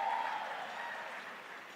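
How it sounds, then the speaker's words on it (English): Audience at a live product demonstration applauds in a soft, continuous wash of clapping that slowly fades, with no voices over it. "Give it out a round of applause."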